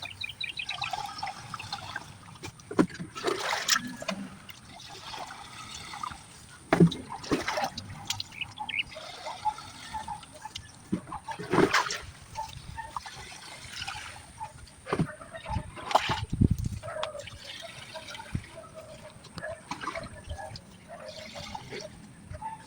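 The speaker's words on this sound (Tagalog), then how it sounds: "pupunuin na po natin siya ng tubig" Water pours into a container for a garden fertilizer mix, with a continuous trickling and splashing that rises and falls in bursts over a steady background.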